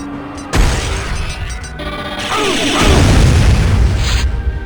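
Shotgun blasts in a first-person shooter video game, a loud booming shot followed by a rumbling, echoing tail with some mechanical clatter, close and prominent.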